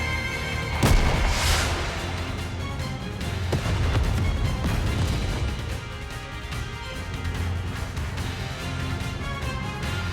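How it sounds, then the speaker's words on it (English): A fiery flame explosion from the video game Goddess of Victory: NIKKE bursts out with a loud, sharp crash near the start, then gives way to a rumbling, crackling roar and dense game effects that persist at steady volume. "What an explosion!"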